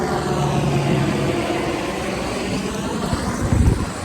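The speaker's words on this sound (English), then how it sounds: "the police helicopter flying by." Loud, steady rotor and engine roar of a police helicopter passing overhead, rising slightly in rumble toward the end with no talking.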